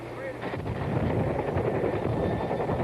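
Helicopter rotor chop and engine roar close by during a rope-descent training exercise, rising quickly to a loud steady throb with a voice underneath.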